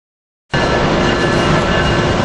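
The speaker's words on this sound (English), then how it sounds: "Here we have Pennsylvania train 42 finally departing Philadelphia." Pennsylvania train 42 departs Philadelphia 30th Street Station behind an AEM-7 electric locomotive, its steady loud rumble and hum starting abruptly and holding constant and close, with no voices.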